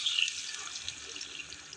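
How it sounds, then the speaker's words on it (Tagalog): Water pours steadily into a pot of sautéed chicken feet for adobo, with a soft, continuous splashing rush, close and fairly quiet, no voices. "Lagyan natin ng tubig."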